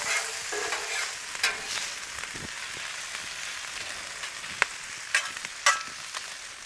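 Corned beef hash crisps on a Blackstone griddle over medium-high burners, a soft continuous sizzle broken by a few sharp spatula scrapes and taps, close and alone.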